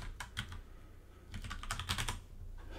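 Quiet typing on a computer keyboard, in two short bursts of rapid clicking keystrokes separated by a brief pause, with no voices.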